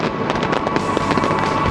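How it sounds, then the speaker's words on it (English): Fireworks shells bursting in a rapid, non-stop computer-fired barrage, dense overlapping booms and crackles filling the whole stretch at steady loudness. "a non-stop display that features a rapid barrage of shells set off by computer"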